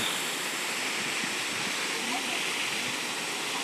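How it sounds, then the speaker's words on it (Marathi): The Necklace waterfall on the Bhima river near Bhimashankar pours in a steady, close-up roar of falling water, broad and unbroken throughout, with no other sounds standing out. "या धबधब्याचं नाव आहे नेकलेस धबधबा"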